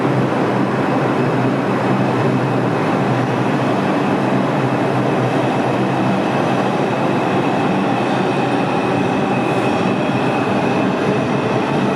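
An IRT 7th Avenue Line 3 express subway train bound for Harlem 148th Street runs past 116th Street station, a loud, steady rumble and roar of wheels lasting throughout with a faint high whine, no voices.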